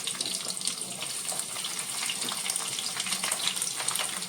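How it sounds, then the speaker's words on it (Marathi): Okra (bhindi) sizzles steadily in hot oil in a pan, a dense, even crackling hiss that holds at constant loudness throughout with no voices. "आता ह्या तेलावरती ही मी भेंडी फ्राय करून घेत आहे"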